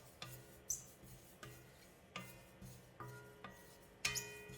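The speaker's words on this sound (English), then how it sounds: "Continue stirring the sesame seed" Sesame seeds stirred while toasting in a stainless steel pan, quiet repeated scraping strokes with light metallic ticks, evenly spaced about every half second and close by.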